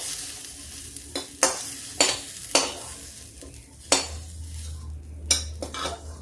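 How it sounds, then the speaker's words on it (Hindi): Onions fry in oil in a pan under a low sizzle, punctuated by sharp, evenly spaced scrapes and clinks of a metal spoon against the pan, close and fairly loud. "अब ये प्याज भूनता है"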